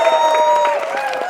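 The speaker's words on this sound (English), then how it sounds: "So give yourselves a round of applause." Crowd at a climate activists' rally cheering and applauding, a dense wash of clapping with whoops and raised voices, loud and close throughout.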